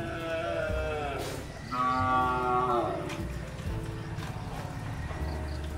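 Carabao water buffalo, freshly arrived from the mountain, give several long, low moos in succession, close by, alongside shuffling hooves and rustling farm noise.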